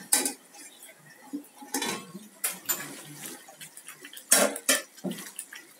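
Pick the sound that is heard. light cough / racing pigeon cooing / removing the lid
removing the lid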